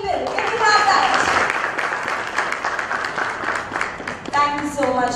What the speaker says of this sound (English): a round of applause by the people for the people